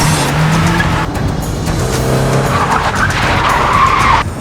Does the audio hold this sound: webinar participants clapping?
no